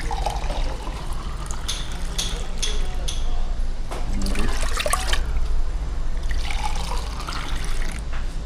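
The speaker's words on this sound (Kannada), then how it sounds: "ಎರಡು ಗ್ಲಾಸ್ ನೀರು ಹಾಕಿ" Water is poured into a pot on the stove to make an Irani tea decoction, a steady liquid splash and trickle lasting several seconds at close range with faint background sounds.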